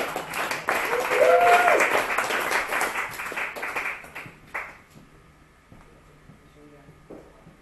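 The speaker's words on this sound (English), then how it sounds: "You can clap for him" Applause from a small tech meetup audience greeting a keynote speaker, a modest burst of clapping lasting about four seconds before fading to scattered handling noises and quiet room sound.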